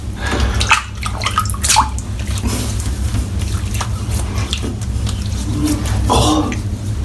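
Hands being rinsed in soapy water after shaving, producing close, continuous splashing and sloshing with squishy swirls over a low steady hum.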